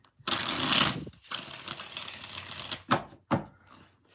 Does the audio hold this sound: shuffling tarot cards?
yes